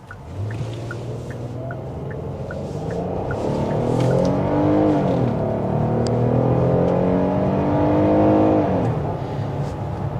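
A 2026 Hyundai Palisade Calligraphy V6 in sport mode roars steadily as it accelerates hard, pitch rising and falling through gears, loud and close with no talking.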